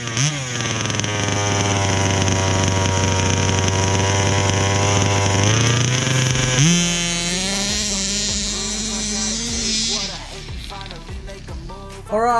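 A Baja 5B RC car's small gas engine on a speed run, a loud, steady high buzzing whine that shifts pitch midway, holds, then cuts off near the end, with no voices.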